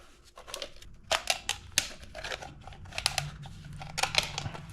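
An oil filter cutter, the Sporthfish 66490, slices through a metal oil filter housing with repeated close crunching, scraping cuts, sharp bursts coming in an irregular rhythm over a low background hum.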